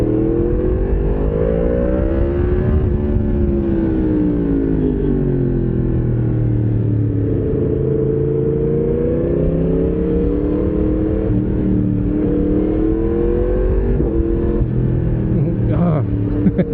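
A Yamaha MT-10SP motorcycle pulls away in first gear, its engine note rising and falling steadily as it accelerates, loud and close throughout.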